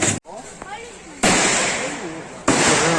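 Gunfire at a shooting range at the Cu Chi Tunnels in Vietnam: two loud, sharp shots about a second apart, each leaving a long noisy decay, with people talking underneath.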